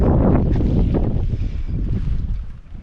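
Wind buffets the microphone at a campsite during light drizzle, a steady rumbling roar that eases slightly toward the end, with no voices.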